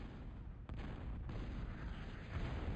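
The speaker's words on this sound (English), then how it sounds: "He's just shelling with it." Artillery shelling in the Supreme Commander strategy game: a short, dense barrage of booming impacts and rumbling blasts layered over one another, with a couple of sharper hits standing out.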